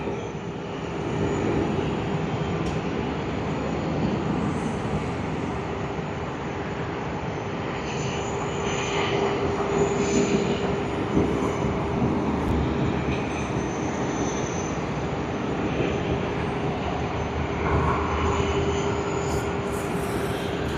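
Jet airliner engines at Sydney Airport during peak hour, a steady, loud roar with a broad rumble that holds throughout.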